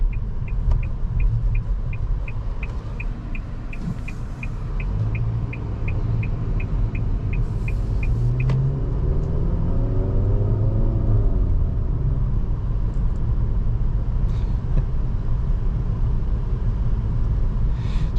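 A 2024 Nissan Altima SR VC-Turbo drives on public roads, heard from inside as a steady low engine and road rumble, with a rhythmic ticking indicator early on and a rising engine tone as it accelerates.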